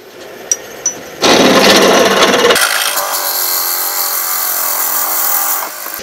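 Lathe with its quill cranked forward, driving a 27/64 drill bit 1.5 inches deep into wood for a pizza cutter part; a loud, steady broadband grinding hum starts abruptly after a couple of light taps and continues to the end.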